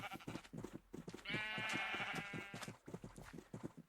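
Sheep in a video game give overlapping, wavering bleats, mostly one long nasal call in the middle among shorter ones, moderately close and fairly quiet.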